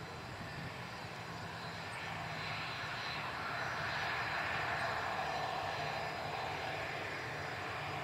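A Bombardier CRJ200ER regional jet operated by Jazz at Ottawa Macdonald-Cartier International Airport gives off a steady, distant engine roar that swells gently and then eases, with no talk over it.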